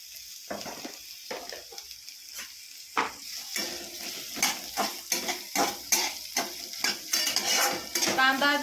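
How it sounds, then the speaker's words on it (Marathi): Chopped onion frying in hot oil for a village-style chicken rassa curry, with a steady sizzle and repeated scrapes and clinks of a spoon stirring in the pan, close and clear with no talk. "तेल गरम झालं की आपण तेलामध्ये कांदा घालू."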